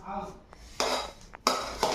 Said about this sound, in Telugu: వెడల్పు చిన్న గిన్నె అయిపోయింది తిరగడం కష్టంగా ఉంది అన్నం